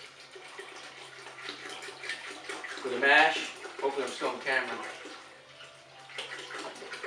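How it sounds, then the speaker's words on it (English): Tap water running into a homebrew kettle, about three gallons poured for the mash, a steady splashing wash heard close under a person talking throughout. "So we're going about 3 gallons of water into the brew kettle."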